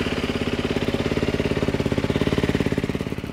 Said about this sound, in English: I'm now just going to go and start the bike and get it warmed up.